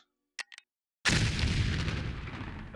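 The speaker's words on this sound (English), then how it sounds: "next explosion" An explosion in the video game Foundry: after a couple of faint small clicks, a single loud deep blast hits at once and rolls out into a long, steadily fading rumble.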